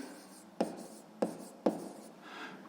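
A pen moves across paper in a math lesson, three short sharp strokes standing out over a faint continuous scratching, close and quiet, with no one speaking.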